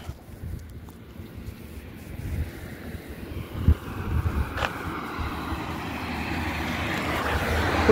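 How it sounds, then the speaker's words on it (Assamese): Wind sweeps across the bank of the Brahmaputra river in a broad rushing hiss with buffeting gusts against the microphone, rising steadily louder toward the end, with a low rumble underneath. "খুব ধুনীয়া বতাহ এজাক মাৰি আছে"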